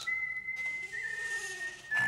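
A soldier whistles a single sustained, wavering high note that holds through most of the moment, with soft background ambience and a brief noisy burst at the end.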